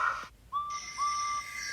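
A steam train whistle in a children's read-along story, a short tone followed by a second, longer steady toot, heard alone and fairly faint.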